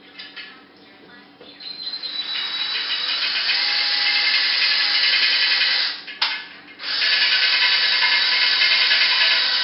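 A power drill whirs steadily while stirring wine to drive off carbon dioxide, a loud sustained whine that briefly cuts out and restarts near the end.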